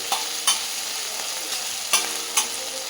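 Chicken frying on a tawa with drumstick leaves, a steady close sizzle broken by several sharp stirring scrapes spaced at uneven intervals.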